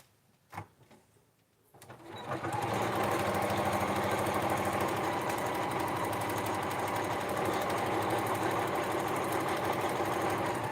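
Quilt blocks run through a sewing machine, a quiet knock and a brief pause first, then a loud, continuous close whirr of rapid stitching that holds steady with no voices.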